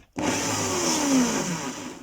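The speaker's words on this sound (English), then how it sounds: "I'll just spin the drill and I'm just going to gouge out." A drill spins up close to gouge out zebrano wood, a loud, continuous whirring grind that starts abruptly and holds steady for about two seconds.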